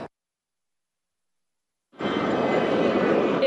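Airplanes at an air show, with a sudden steady engine roar that switches on midway after near silence and holds loud to the end.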